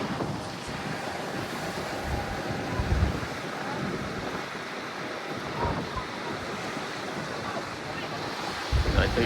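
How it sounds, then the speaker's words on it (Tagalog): Strong wind buffets the microphone while ocean surf crashes and churns steadily at Natural Bridge, Aruba, a loud continuous roar with occasional heavier gusts. "Lakas ng hangin dito"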